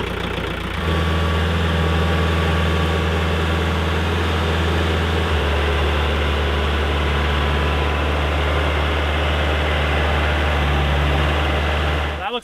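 A tractor engine runs steadily with a deep, loud drone while lifting a heavy load of about 2,700 pounds at the pins, the pitch dropping slightly partway through under strain.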